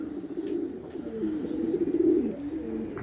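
Pigeons coo in soft, rounded low phrases, several overlapping calls rising and falling close by, with faint background noise and no speech.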